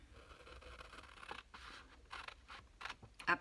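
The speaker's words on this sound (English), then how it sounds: "So now I'm going to cut on these lines here" Paper being cut with scissors along drawn lines for a 12x12 paper pocket project, a series of quiet crisp snips and scratchy rustles close by, with the sharpest snip near the end.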